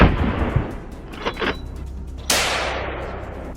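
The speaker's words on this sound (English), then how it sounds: "A shot rang out and the animal went down, huge like a dinosaur." A rifle shot is fired at a wild boar from a vehicle, a single loud crack at close range followed by a long fading echo over a low engine rumble, with a softer thump earlier.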